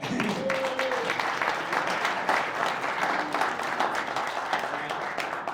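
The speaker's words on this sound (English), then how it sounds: "So give her a round of applause for that." Applause fills a boxing press conference for a young undisputed champion, steady, broad clapping at moderate level holding evenly throughout, with a brief voice near the start.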